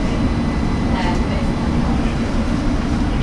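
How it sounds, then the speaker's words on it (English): A London Underground Metropolitan line S Stock train at Baker Street station: a steady, loud rumble and hum of the moving train with a faint platform announcement under the noise. "This is a Metropolitan line train to Aldgate."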